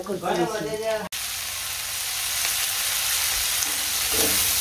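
Food sizzles and fries in a pan while being stirred during slow browning of a curry mixture, a steady loud crackle after a brief spoken line at the start, with a little stirring near the end.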